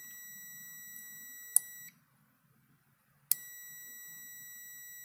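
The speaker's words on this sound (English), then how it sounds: "when it is green, it is beeping." Two sharp clicks each followed by a high electronic beep tone from a continuity meter testing a DIY timing switch pulse generator kit, with a silent gap between, close and fairly quiet.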